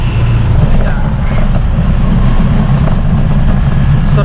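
Steady low engine rumble of a motorcycle on the road, loud and continuous with wind buffeting, no talking.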